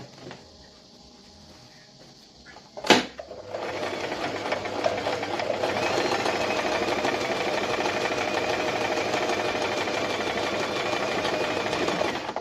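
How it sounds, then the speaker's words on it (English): An electric sewing machine runs steadily, stitching a flat welt pocket on a notched collar jacket. A sharp click comes first, then a fast, even whirring rattle that holds close and constant to the end. "so you sew all the way to the other side"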